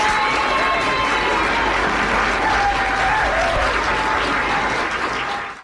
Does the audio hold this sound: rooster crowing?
no